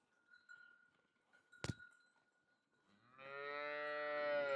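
A cow or calf gives one long, loud, close moo near the end, after a quiet stretch broken by a sharp knock and faint background sounds.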